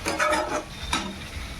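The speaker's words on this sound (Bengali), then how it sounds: "তারপরে আমি এই আলুগুলোকে হচ্ছে ভালো করে তেলে কষিয়ে নিয়েছি, ভেজে নিয়েছি, দিয়ে এবার এই কষানোর মধ্যে দিলাম।" Oil-fried potatoes are tipped into a spiced masala for a chicken curry, producing a soft hiss and sizzle with stirring scrapes in a short, close burst.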